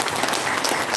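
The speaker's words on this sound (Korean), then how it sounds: "자, 다들 박수를 한번 준비해보세요" A lecture audience bursts into brief, dense applause, many hands clapping together in one short, loud burst.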